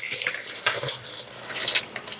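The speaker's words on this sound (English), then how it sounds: "So I'm gonna dump everything into this bowl here." Fries dumped into a bowl while making spicy poutine, a brief clatter and scrape of food and utensils against the bowl, close and fairly loud, with several quick knocks across about two seconds and no talking.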